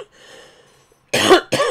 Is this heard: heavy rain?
no